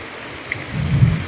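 Heavy rain pours steadily around a rural house, a dense hiss of drops, with a low rumble of thunder swelling near the end and no speech.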